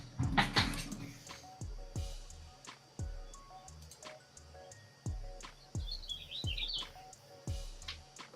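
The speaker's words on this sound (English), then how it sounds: "I hear birds" Faint bird chirps twitter in the background amid a series of sharp knocks and clicks nearby.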